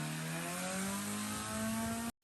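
A classic car engine running after fuel line repairs for vapor lock stalling, a steady mid-pitched idle hum with a slowly rising tone for about two seconds before it cuts off abruptly to silence.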